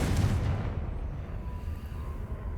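Confringo blasting spells burst in Hogwarts Legacy, a heavy booming explosion at the start that rolls into a sustained rumbling blast over low game ambience, with no talking.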